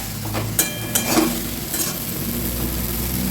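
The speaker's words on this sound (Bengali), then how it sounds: "এটা ভাজা হতে থাক" Potato pieces and yardlong beans frying in a pan with salt and turmeric, making a continuous close sizzle with a few soft clinks and stirring sounds near the start.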